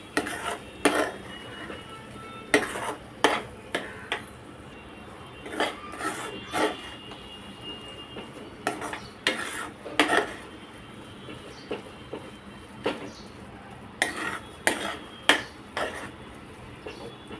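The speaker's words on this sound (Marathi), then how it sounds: "मध्येच एकदा झाकण काढून हलवून घ्यायचं।" A spoon scrapes and clinks against a pan while semolina prasad sheera cooks, heard as scattered sharp metallic taps and knocks at irregular intervals over a quiet background.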